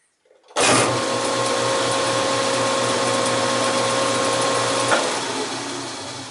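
A General dust collector, a 3-horsepower unit rated over 2,000 cubic feet per minute, starts abruptly and runs with a loud, steady whooshing roar and a constant motor hum, with no voices.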